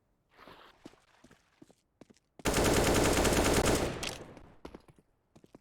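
A sustained burst of AK rifle fire in a Counter-Strike match lasts about a second and a half, loud and close, after scattered footsteps and small clicks.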